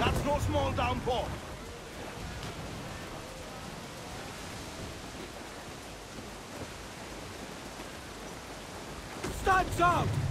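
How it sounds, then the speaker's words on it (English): Heavy rain pours in a steady, hissing wash aboard a sailing ship in Assassin's Creed IV: Black Flag, with voices shouting briefly at the start and end. "That's no small downpour."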